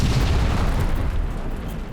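Continuous low, heavy rumble of bombing and artillery fire explosions along a wide desert front during an Arab–Israeli war tank battle, loud and dense without distinct separate blasts.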